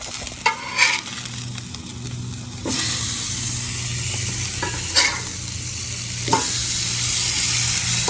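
Swordfish pieces frying in a pan at a campsite, a close steady sizzle that jumps louder after a few scrapes and clunks as the fish is flipped, with occasional utensil knocks over the continuous hiss and no talking.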